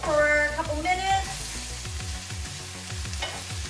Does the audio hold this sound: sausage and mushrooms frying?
yes